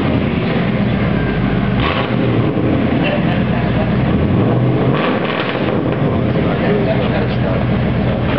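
An LT1-powered Buick Roadmaster Wagon with the muffler deleted rumbles loudly at close range, a deep, rough, continuous exhaust drone with a couple of swells as the throttle is blipped, with voices underneath.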